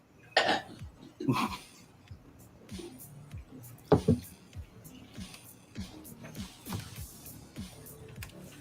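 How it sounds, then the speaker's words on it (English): A few sharp coughs near the start, followed by scattered softer bursts and faint movement noises, close by. "Get him to cough."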